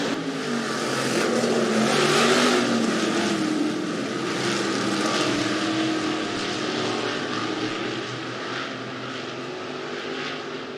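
Stock cars race at Rapid Speedway's season opener, a dense engine roar that swells loudest early on and then holds steady as the pack runs on, with no talk.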